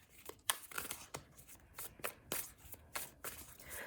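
Tarot cards are shuffled by hand in a run of crisp, brisk riffles and flicks, the snaps coming in quick uneven bursts, close and fairly quiet with no talking.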